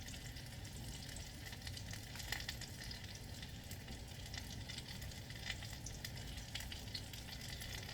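Apple fritters fry in hot oil with a steady, dense sizzle that holds constant throughout, quiet and close, with no voices.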